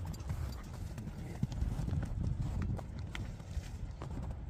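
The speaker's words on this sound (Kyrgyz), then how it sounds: "аттын чуркаганын көрөлү." A blue-grey horse runs at a farm, its hooves clip-clopping in a quick, steady rhythm on the ground, moderately close and fairly faint, with a low background rumble.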